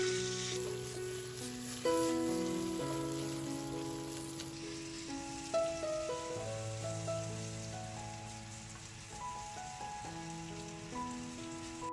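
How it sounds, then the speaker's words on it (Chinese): Water chestnuts stir-frying in oil in a wok, a steady hissing sizzle with small crackles running under background music. "加入荸荠，翻炒大约一两分钟"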